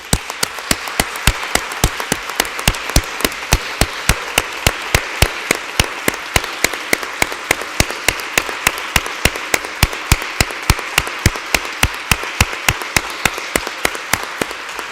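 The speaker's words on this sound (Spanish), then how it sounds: "dediquémosle un aplauso a su obra, a su vida y a su compromiso por el cambio" An audience at a Second Republic anniversary commemoration in Ávila applauds in homage, a sustained round of close, crisp hand claps falling into a steady, even rhythm for the whole stretch.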